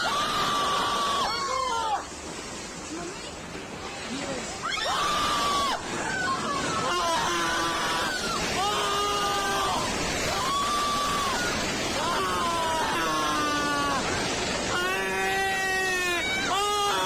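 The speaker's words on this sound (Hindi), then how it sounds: "आवाजें जो आसपास भय के चलते लोगों की चीख निकली है वो भी काफी हृदय विदारक है" People scream in fear at a rescue scene where houses have collapsed, repeated anguished high-pitched wails and cries rising one after another over a noisy crowd hubbub.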